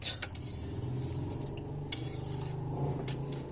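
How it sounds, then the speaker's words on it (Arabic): Béchamel sauce being mixed into macaroni in a baking dish, with a steady low scraping and stirring and several sharp metallic clinks of a utensil against the dish, close and continuous with no talk. "هحطه شويه على المكرونه كلها عشان انا بحب اخلط"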